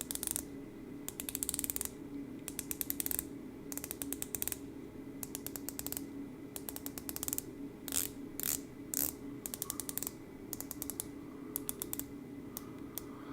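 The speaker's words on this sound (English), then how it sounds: "it has that really nice sapphire bezel insert, and this bezel is 120 clicks." A Traska Freediver watch's 120-click bezel with a sapphire insert is turned in repeated short bursts of rapid, fine ratcheting clicks. The clicks are quiet and close, with brief pauses between turns.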